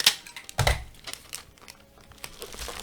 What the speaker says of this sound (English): I'm just gonna hold them and tape down the sides